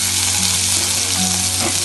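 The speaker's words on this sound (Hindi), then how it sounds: "तो हम डालेंगे इसमें 3 हरी मिर्च कटे हुए और 1 ऑनियन" Chopped green chilies and onion fry in a hot pan, giving a dense, continuous sizzle that stays loud and even throughout, with no talking.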